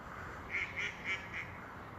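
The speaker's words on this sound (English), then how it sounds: "They're coots, I think." Coots calling on a lake, four short nasal calls in quick succession, moderately close, over a soft outdoor background hum.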